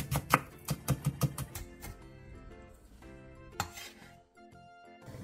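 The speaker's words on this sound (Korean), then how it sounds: "대파 조금도 쫑쫑 썰어주세요" A knife finely chops green onion on a board: about ten crisp, quick taps in a steady rhythm, then the cutting stops and only faint, scattered kitchen sounds follow.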